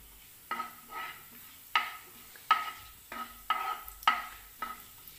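Cloves and fennel seeds being sautéed in a pan, a spatula scraping in a regular rhythm of about seven distinct strokes over a faint sizzle.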